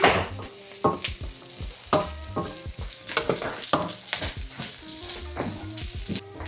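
Aromatics and a cinnamon stick are sautéed in a pan for beef pares, a lively close sizzle punctuated by repeated sharp scrapes and knocks of a spatula stirring in an uneven rhythm.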